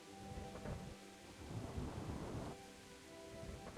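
Video game rain and thunder in Kingdom Come: Deliverance: low rolling thunder rumbles under steady rain pattering on a surface, fairly faint and continuous with no voices.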